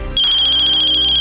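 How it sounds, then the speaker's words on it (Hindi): A phone ringtone bursts in after a brief moment of quiet, sounding loud and close as a steady, bright electronic ring. "क्या हुआ अम्मी, किसका फोन है?"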